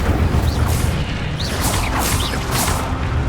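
An Incendio fire spell blast in the video game Hogwarts Legacy gives a loud, continuous roaring burst with booming whooshes and sharp crackles, and no voices.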